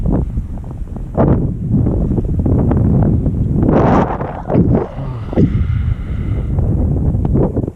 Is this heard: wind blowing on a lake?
yes